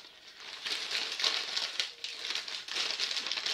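Paper wrapping crinkles and rustles steadily up close, in bursts of crackly handling with brief pauses between.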